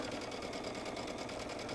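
A sewing machine runs a steady straight stitch through a single layer of robe fabric, a continuous close whirring hum with a fast even rhythm throughout, no voices over it.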